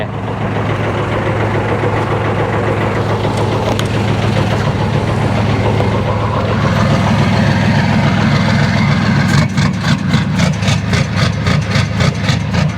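An Isuzu FXZ360 truck with an electric throttle idles with a deep, steady diesel rumble, then switches into a rhythmic panting mode. The engine pulses in quick repeated bursts near and loud, with no talk.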